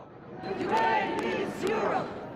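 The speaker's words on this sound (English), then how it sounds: "The crowds converge outside the symbol of Europe's unity" A crowd rallies outside the European Parliament, voices shouting and chanting together in two swelling waves, steady and fairly loud throughout.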